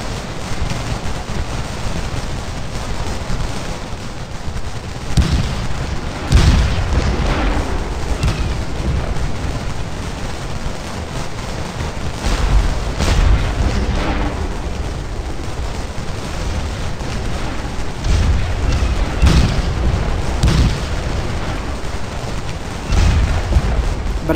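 Battle din from Scourge of War: Gettysburg around McPherson's farmstead, a continuous wash of musketry crackle punctuated by occasional deeper booms of artillery, steady and fairly loud throughout.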